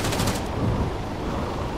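A burst of gunfire from the video game Arma 3, a quick crack at the start followed by rumbling echo and a low, noisy tail.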